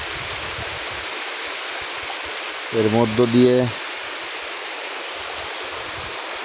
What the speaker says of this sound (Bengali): বাতাস হচ্ছে হালকা বাতাস বৃষ্টিতে সুন্দর একটা পরিবেশ ঠান্ডা ঠান্ডা পরিবেশ